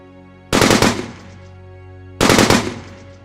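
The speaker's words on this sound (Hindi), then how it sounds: "उन्होंने देखा कि आतंकी लोगों की भीड़ में छिपकर गोलियां चला रहे थे।" Two bursts of rapid automatic machine-gun fire, each about half a second of tight, loud, close shots ringing into a fading reverberant tail, separated by a pause of over a second.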